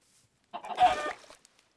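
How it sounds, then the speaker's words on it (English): A single brief chicken cluck from a Minecraft-style block-building survival video game in an Ultra Hardcore match, close and fairly soft, with no voices over it. "Hey, look, chickens."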